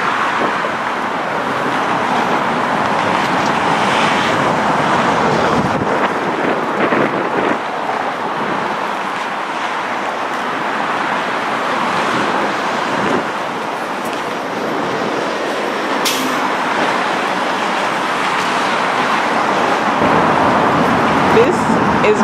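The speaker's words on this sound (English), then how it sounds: "Traffic going to and fro on the bridge." Steady roadway traffic rolls across the Brooklyn Bridge in Manhattan, a continuous broadband wash of passing cars mixed with gusty wind buffeting the microphone, with no break throughout.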